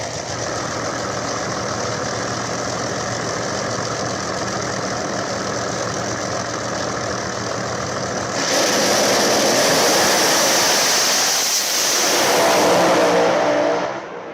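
Drag race cars roaring through a final round, a steady loud engine drone that surges sharply louder partway through as the run launches, then swells again near the end before cutting off.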